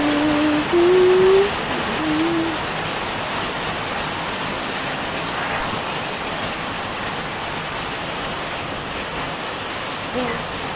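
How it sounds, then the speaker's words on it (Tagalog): Rain falls steadily, a dense, even hiss that holds throughout, with a voice briefly heard over it near the start. "update ko kayo mamaya pag mas lumakas pa at tumagal yung ulan."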